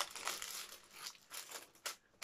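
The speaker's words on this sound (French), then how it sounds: "j'ai une feuille d'aluminium sur le carton" Aluminium foil crinkles and rustles as it is handled and pressed over a sheet of cardboard, a close, quiet run of bursts and soft scrapes with brief pauses and no voices.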